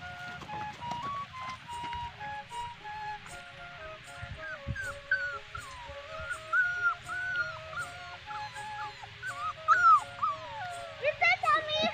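A newly brought-home puppy whines and cries in repeated high, wavering yelps, fairly close and growing louder toward the end, with a person talking over it throughout.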